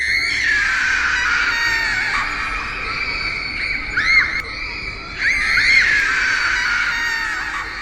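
A small child cries and wails loudly in long, high, strained bursts, with a short pause before the crying starts up again.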